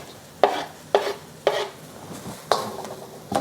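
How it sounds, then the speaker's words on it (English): Garlic and ginger stir-fried in a pan for chicken chow mein, with a spatula scraping the pan about every half second over a faint, steady sizzle, close by. "I'm going to stir fry this for another 30 seconds or so, just until the garlic is fragrant."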